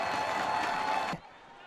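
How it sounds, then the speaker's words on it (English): A stadium crowd at a Minnesota sports game roars loudly in a steady, dense wash of cheering that cuts off abruptly after about a second. "The crowd's back into it now."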